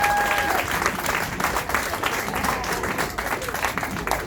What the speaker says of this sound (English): Please a massive round of applause for Andrew Feinstein.